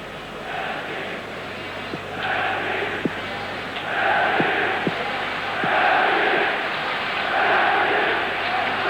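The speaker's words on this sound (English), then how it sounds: "The Belgian crowd supporting their favourites now, building up a chant behind the Belgian goal." Belgian supporters chanting behind the goal at a 1984 European Championship qualifying football match between Belgium and Scotland, a distant crowd swelling in rhythmic waves of chanting under steady stadium noise, with a commentator talking over it.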